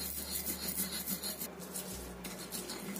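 A stone mortar and pestle grinds spices smooth, giving a dry, raspy rubbing and scraping that repeats steadily at close range, with a low hum underneath and no talking.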